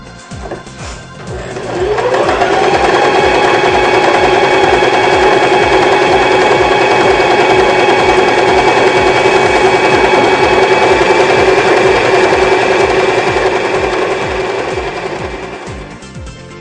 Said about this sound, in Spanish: Aquí podemos ver el grupo de puntadas decorativas del grupo rojo que maneja nuestra máquina de coser Janome modelo 2012.